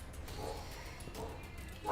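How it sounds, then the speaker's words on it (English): Dogs bark and yip in a few short, close bursts over a low background, with faint talking nearby. "And the dogs are barking in this match"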